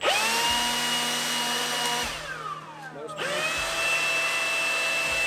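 A Milwaukee M18 Fuel cordless blower runs on low speed, a steady whirring whine that winds down and dies midway, then quickly spins back up to a constant hum, close by.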